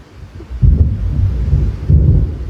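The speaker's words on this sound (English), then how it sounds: "It seems there's a storm coming." Deep, low rumbling thunder from an approaching storm in Alan Wake Remastered, rolling in two heavy swells over a steady dark background, with no voices.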